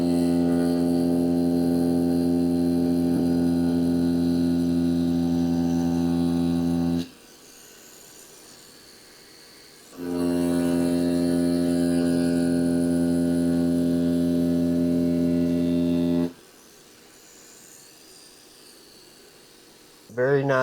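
Acus C2 tattoo machine buzzing steadily in two long runs with a brief stop between, a constant harmonic hum with no power fluctuations.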